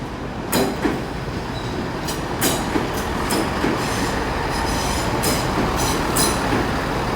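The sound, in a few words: Great Western Railway train departing for Penzance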